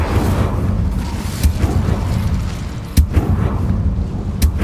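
An Incendio fire spell is cast in the Hogwarts Legacy video game, with a few sharp whooshing bursts and thumps over a dense, roaring low rumble.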